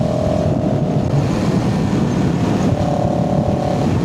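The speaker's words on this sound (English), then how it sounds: "the exhaust sounds nice" CFMOTO CLX 700 motorcycle with its stock exhaust cruising steadily, a continuous mid-pitched engine drone with a faint rise in tone near the end and wind rush around it, no talk.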